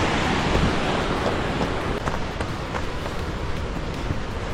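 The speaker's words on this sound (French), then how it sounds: "Et encore une cascade avec un passage" Steady, dense rushing roar of a mountain waterfall in the Oisans Alps, loud and continuous with no pauses and no voices.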